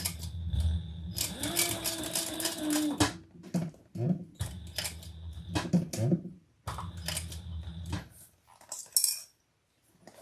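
Sewing machine stitching all the way around a rounded seam on a Reno Rounded sewing project, running in several sustained bursts with short pauses between, close and fairly loud with no talking.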